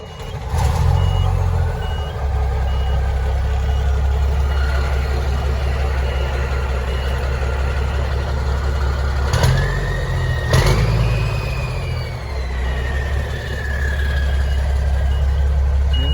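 Peterbilt 362 cabover truck with a Cummins diesel idling loudly after a cold start, a steady low rumble throughout with intermittent reversing beeps and a brief whine rising over it.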